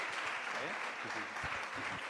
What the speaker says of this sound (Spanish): la podemos recibir también con un aplauso